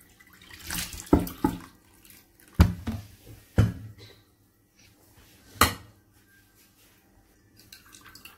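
Homemade apple cider vinegar is poured into a ceramic container, several short splashing pours with gurgles and drips between quieter pauses, close by.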